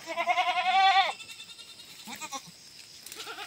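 Goats on a goat-raising farm bleat: one loud, wavering bleat up close for about a second, followed by fainter, shorter bleats from other goats in the background.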